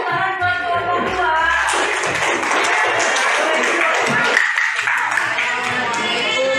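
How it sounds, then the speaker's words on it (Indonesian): A classroom of students claps for a presenting group, a dense burst of scattered hand claps filling the room, with voices talking over it. "Oke, tepuk tangan buat kelompok dua."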